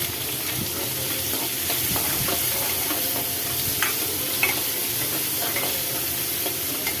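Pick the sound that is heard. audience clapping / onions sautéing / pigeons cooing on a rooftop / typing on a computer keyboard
onions sautéing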